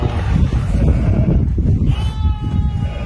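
Sheep bleat a few times outdoors on a rainy day beside a flooded field and pond, the calls faint and partly buried under steady wind rumble on the microphone.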